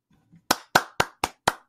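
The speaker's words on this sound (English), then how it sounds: "It's only me clapping, but I still feel it makes me a little happy there." Recorded hand clapping, five sharp, evenly spaced claps in a steady rhythm, close and loud with nothing else heard between them.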